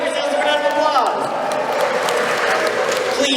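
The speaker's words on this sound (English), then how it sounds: "Give yourselves a round of applause." Audience applause at a stage magic show, a steady wash of many hands clapping with some cheering and crowd voices mixed in, loud and sustained throughout.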